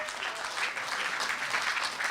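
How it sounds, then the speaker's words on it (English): Audience applause at a talk after a chanted song: a soft, even wash of many hands clapping, fairly distant and continuous, with no voices over it. "Give yourself a little applause for that."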